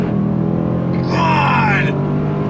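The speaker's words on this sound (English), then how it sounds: "love the sound of this beast. Nice downshifts, watch." A 2022 Range Rover Sport SVR Bespoke Edition engine burbles through a downshift, its pitch swelling and then falling in a brief rev blip over a steady low cabin drone.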